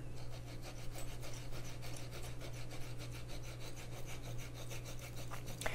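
Fibrous ginger root is rubbed back and forth across the nubs of a grater in a quick, even rasping rhythm, close but soft, with no talk.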